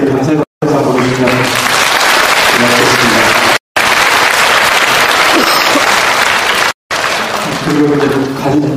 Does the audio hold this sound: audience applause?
yes